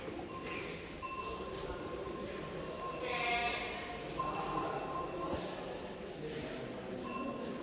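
Retinta goats at a livestock fair in Trujillo bleat repeatedly amid a busy crowd murmur, with scattered nearby calls rising over steady background chatter.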